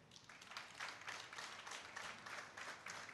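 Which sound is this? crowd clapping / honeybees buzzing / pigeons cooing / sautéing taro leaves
crowd clapping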